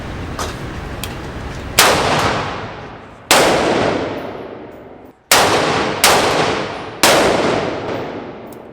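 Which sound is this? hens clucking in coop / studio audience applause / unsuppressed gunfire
unsuppressed gunfire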